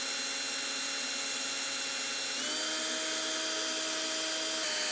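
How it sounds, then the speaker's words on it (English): A power drill bores a hole in the trunk lid of a third-generation Honda Prelude, giving a steady whining hum close by that shifts slightly higher in pitch halfway through, with no talk. "First hole is drilled out."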